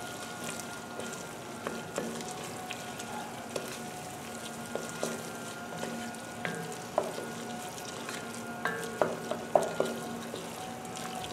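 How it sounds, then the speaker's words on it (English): Crawfish pasta sauce with tomato being stirred in a frying pan, a steady low sizzle with scattered utensil scrapes and clicks that grow a little louder toward the end, close up with no talking. "Just keep on stirring."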